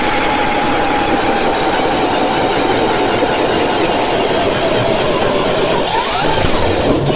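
A Jiffy Rogue 2.0 power ice auger drills through lake ice at turbo speed, a loud steady engine roar and grinding churn held throughout without pause, near and continuous.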